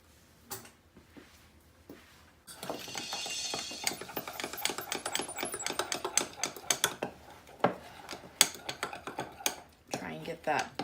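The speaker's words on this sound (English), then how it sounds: "and then I'm going to stir everything up" Batter being stirred in a dish, a steady run of quick scraping and tapping strokes from a utensil against the dish, fairly close and moderately loud, with no talking over it.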